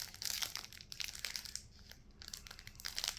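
A plastic seed packet crinkles and tears open close by, a quiet run of rustling, crackling rips with a short pause midway, no talking over it.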